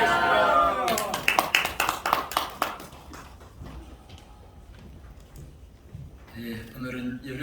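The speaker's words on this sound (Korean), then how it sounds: "할렐루야! 박수를 맞이하겠습니다" Congregation clapping to welcome a pastor at a Korean church thanksgiving service, a burst of claps around the first seconds that fades into room murmur and talk.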